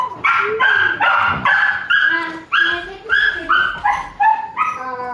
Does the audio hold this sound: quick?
no